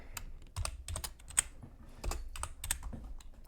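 Close, crisp clatter of a computer keyboard as text is typed for a Rec Room setup, irregular bursts of keystrokes with brief pauses and no talking.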